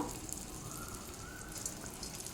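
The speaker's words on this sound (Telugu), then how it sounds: "ఆయిల్ హీట్ ఎక్కిన తర్వాత చిన్న చిన్న పునుగుల్లాగా వేస్తున్నాను" Small punugulu fritters of buttermilk batter dropped into hot oil, giving a steady broad bubbling fry hiss throughout at moderate level, with no talk.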